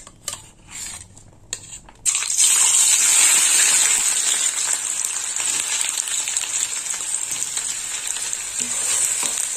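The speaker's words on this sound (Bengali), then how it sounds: "এবার দিয়ে দেবো কেটে রাখা পেঁয়াজ।" Chopped onions hit hot oil with dried red chillies and burst into a loud, steady sizzle that holds close and continuous after a quieter opening, with no talking.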